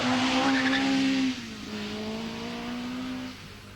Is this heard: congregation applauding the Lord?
no